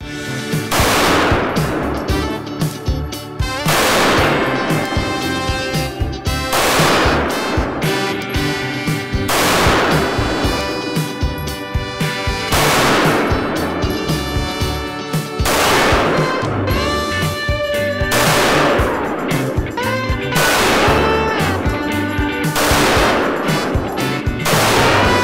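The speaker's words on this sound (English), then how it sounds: "All right, Kylie, is this your first time shooting a Beretta?" A Beretta 92G Elite LTT pistol fires loud, sharp single shots at a range, roughly nine or ten reports spaced a couple of seconds apart, each ringing briefly before the next.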